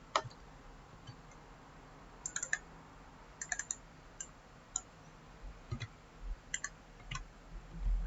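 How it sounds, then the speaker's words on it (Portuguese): Mouse clicks on a computer during map software work, a few sparse, light taps scattered irregularly over a quiet room, including some close pairs like double-clicks. "vou dar 2 cliques"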